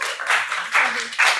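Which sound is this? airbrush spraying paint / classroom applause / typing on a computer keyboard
classroom applause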